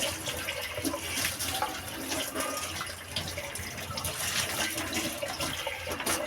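Running water splashes steadily over a laminated Saudi 5 riyal banknote being washed, a continuous close hiss and spatter like a tap flowing, with no talk.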